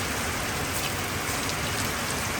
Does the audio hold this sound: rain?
yes